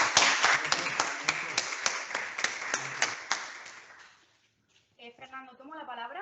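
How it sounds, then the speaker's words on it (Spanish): An audience at a conference panel on Western Sahara claps to welcome a speaker, a few seconds of fairly sparse, rhythmic hand claps that die out into silence before a voice begins talking. "lo recibimos con un aplauso"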